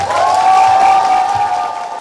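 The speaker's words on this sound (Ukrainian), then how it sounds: "Від ліцеїстів гучні аплодисменти" Brief burst of loud applause from lyceum students at a school ceremony, a dense clapping crowd sounding close and sustained before tapering off.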